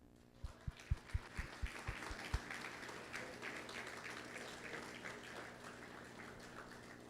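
Audience applause at a security company's awards announcement, with a string of sharp, close thumps early on over a steady, fairly faint wash of clapping that carries on to the end.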